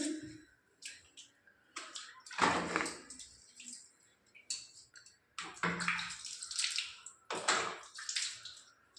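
Warm water is poured and splashed over Oreo the pet during a bath, coming in irregular bursts of splashing and sloshing with quiet gaps between them.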